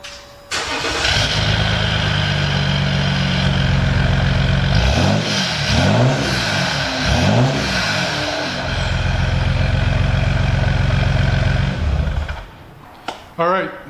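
A Jeep EcoDiesel with a newly fitted exhaust starts up, settles into a steady idle, then gives three quick revs before idling on and shutting off, all close and fairly loud.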